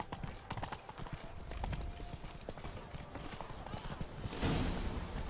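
Roach, a horse in The Witcher 3, clip-clops at a steady walking pace, the hoofbeats close and clear with a louder rustling swell near the end, while voices talk over it.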